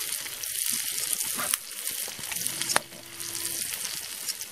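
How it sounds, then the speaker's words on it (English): Meat and onions frying in a pan over a campfire in a forest near Kiev, Ukraine, with a steady close sizzle and a few sharp crackles and clicks, no voices. "Nice and sizzling"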